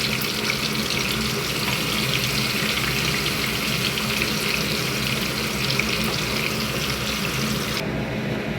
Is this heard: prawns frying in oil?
yes